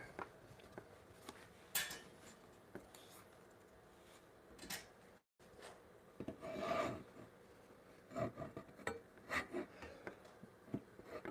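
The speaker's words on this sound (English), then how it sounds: "this saw is so dull" A dull hand saw cutting clamped wood in a hand-tool workshop: irregular rasping strokes, close and fairly quiet, with pauses between bursts of sawing.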